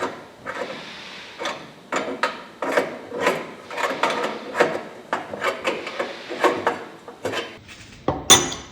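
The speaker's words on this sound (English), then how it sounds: "So you just want to tighten that up, like so. Use a wrench." Metal clinks and short rasping scrapes from a wrench tightening a diamond blade dressing tool on a grinder, irregular and close, about a dozen strokes with a sharper clank at the end.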